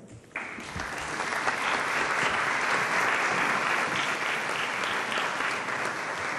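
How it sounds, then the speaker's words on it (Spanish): Audience applause welcoming a performer back onstage at a memorial concert, a sudden dense burst of clapping that holds full and steady for several seconds. "vamos a recibir con un fortísimo aplauso"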